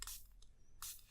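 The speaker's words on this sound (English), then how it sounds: "Right, I'm just going to spray this again." A spray bottle misting water onto a watercolour stamping card: two short, soft hissing spritzes separated by a brief pause, close but quiet.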